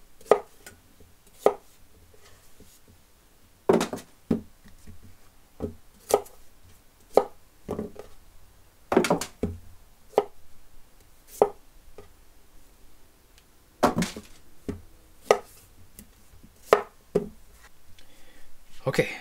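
A Japanese kiritsuke knife chopping vegetables on a board, sharp close knocks in irregular bursts, some single cuts and some quick runs of two or three, with no voice.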